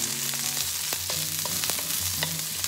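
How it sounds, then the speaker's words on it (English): Garlic and chopped green onions sauté in a pan for a Filipino pancit noodle stir-fry, giving a steady close sizzle broken by irregular scraping and clinking strokes of a spatula. "we're gonna saute this for a couple minutes"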